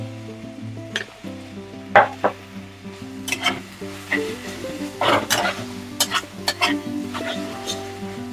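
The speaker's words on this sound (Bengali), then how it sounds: "আমার এই মশলাটা কিন্তু কষাচ্ছি এই যে কড়াইয়ে লেগে লেগে যাচ্ছে" Spiced masala of Kashmiri chilli, coriander, cumin and garam masala fries in a kadai, with close, repeated scraping and stirring strokes over a light sizzle.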